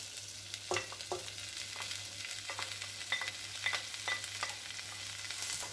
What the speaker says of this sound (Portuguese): a gente vai colocar agora o tomate e o pimentão